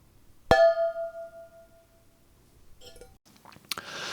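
An empty tin is struck once, ringing with a wavering, pulsing tone that dies away, then some light clattering and rustling.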